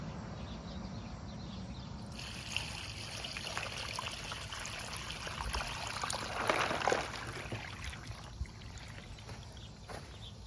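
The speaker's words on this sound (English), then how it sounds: "that last rush of water did knock the pile over" Water rushes and trickles through river rock in a miniature French drain, a steady broadband wash that swells louder in the middle before settling back to a continuous flow.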